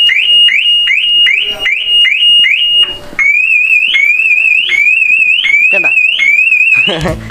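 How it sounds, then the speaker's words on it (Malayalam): Loud Maruti Suzuki Swift car alarm, set off from the key fob, cycling through repeated rising whoops, then switching to a faster warbling tone that cuts off abruptly. "അലാറം പോലെ കേൾപ്പിക്കണമെങ്കിൽ ഈ കീട 2 ബട്ടൺ കൂടെ ഒരുമിച്ച് ഞെക്കിയാൽ മതി"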